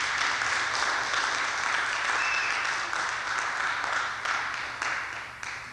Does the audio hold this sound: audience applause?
yes